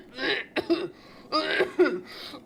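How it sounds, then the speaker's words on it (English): A person coughs loudly in harsh, repeated bursts, with throaty rasps between coughs, close and clear. "starts coughing loudly again"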